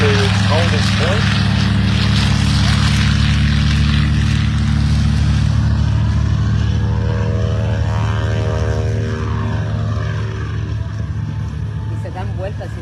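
Loud, steady drone of a B-25 bomber's piston engines and propellers at the Hunter Valley Airshow, holding close and constant with a slight rise and fall in pitch, and voices faintly audible underneath.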